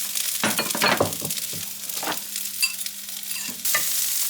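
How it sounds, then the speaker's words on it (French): Onions and minced meat frying for a lasagne sauce: a steady sizzle broken by repeated scraping and clinking of a utensil against the pan as the mixture is stirred, close and clear with no voices. "Je mets la viande. Et on touille. On mélange tout ça."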